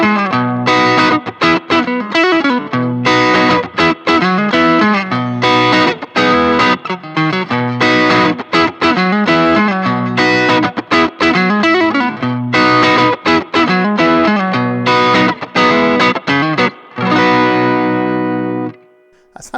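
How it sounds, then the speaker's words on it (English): An electric guitar from a Strich beginner kit, on the neck pickup with crunchy overdriven gain, plays a busy run of chords and riffs, loud and close, then ends on a sustained ringing chord. "Let's see how it sounds with some gain on it."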